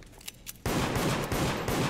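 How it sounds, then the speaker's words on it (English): Rapid automatic gunfire in the video game Deceit, a loud burst of fast repeating shots that starts abruptly after a few quieter taps and continues densely to the end. "Why are you shooting at me? I'm not shooting at you, I'm shooting at the one."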